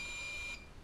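A model aircraft radio transmitter gives a single long, thin electronic beep, a steady high tone held for about half a second before cutting off, faint and alone.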